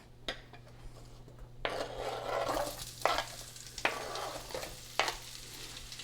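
Onion sizzling in butter in a skillet, a soft hiss that swells once it goes in, punctuated by several sharp scrapes of stirring, close and fairly quiet.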